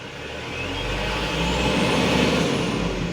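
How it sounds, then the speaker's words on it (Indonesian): A Mitsubishi Canter Euro 4 truck engine runs close by with a steady, loud mechanical drone that swells gradually as the throttle is eased open, no voices over it. "Oke, mesin sudah hidup. Kita coba gas secara perlahan."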